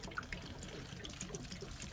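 Water drains out of a hot water heater in a continuous faint trickle, with small irregular drips and gurgles over steady background hiss.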